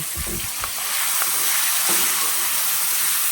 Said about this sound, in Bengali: এখন আমি এই ক্যাপসিকাম টমেটো এইগুলো এখন তেলের উপরে দিয়ে দিচ্ছি